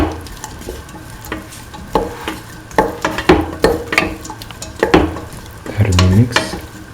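Kidney beans and snake gourd being sauteed in a pan for a coconut milk stew, with a soft sizzle under repeated close scraping and clattering strokes of a spoon stirring, louder near the end.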